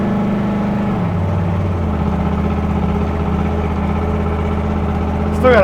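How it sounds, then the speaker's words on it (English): A car engine fitted with a Holley 4160 carburetor idles in gear at about 750 rpm, a steady, close, even low rumble with a brief rise in revs at the very end. "Idling at like 750 in gear."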